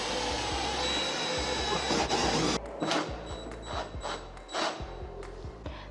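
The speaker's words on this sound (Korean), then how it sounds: "이렇게 임팩 드릴 드라이버로" An impact drill driver whirs steadily, then breaks into rapid rattling hammer pulses as it drives a bit into a door, close and fairly loud.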